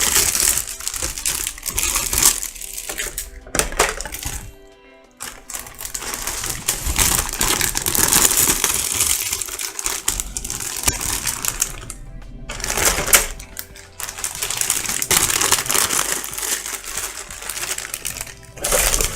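Plastic bags rustle and crinkle as pieces of a Flame Toys Optimus Prime model kit are pulled out, with busy, close crackling, small clicks of parts and brief pauses, and no talking.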